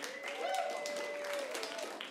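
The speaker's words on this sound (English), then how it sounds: "give him a round of applause" A crowd claps and cheers, with a sustained whistle-like tone held through the middle and voices mixed into the applause.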